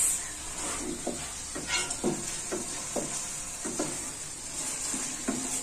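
Chopped tomatoes stirred into sizzling bhindi do pyaza, okra and thick-cut onions frying in a dhaba-style pan, with a steady frying hiss and a regular rhythm of spoon strokes scraping through the mix, close up and without talk.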